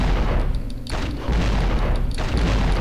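Grenade blasts and gunfire from the Devil May Cry video game, heavy booming thuds with rumbling low end, two or three bursts packed closely together over a few seconds.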